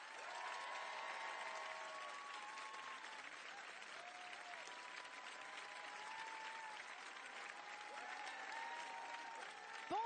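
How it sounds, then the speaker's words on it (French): Audience applause for Christophe and Sophie Tite on a Sunday afternoon show, as a dense, steady crowd clapping continues for the full length with a faint scattering of voices beneath. "Je vous demande de grands applaudissements pour Christophe et Sophie Tite."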